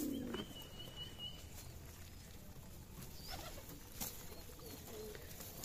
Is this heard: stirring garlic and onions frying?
no